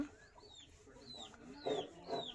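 Breeding hen sitting on a clutch of thirteen eggs on a farm, giving soft low clucks near at hand, with a few brief higher chirps from other birds around.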